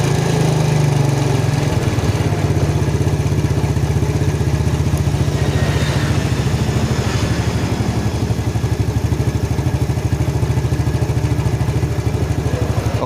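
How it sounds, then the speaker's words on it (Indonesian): A Yamaha Jupiter Z motorcycle engine idles steadily after a carburetor adjustment, a close, continuous low putter with a fast even rhythm and faint mechanical clatter running throughout. "Oke, kita kecilkan untuk putaran gasnya."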